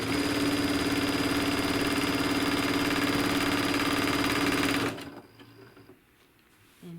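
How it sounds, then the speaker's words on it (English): A domestic sewing machine quilts straight lines, running steadily and loudly with a constant motor hum for about five seconds, then stopping abruptly, leaving quiet room tone. "now I will start sewing"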